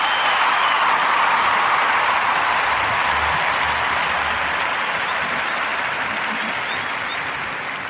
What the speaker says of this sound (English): And so we're going to give Kentaji a round of applause.